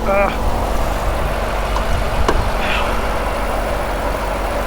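The 6.4-liter 392 Hemi V8 of a 2022 Jeep Wrangler Rubicon Unlimited idles steadily and close, a low even rumble with a faint whine over it and a couple of small clicks.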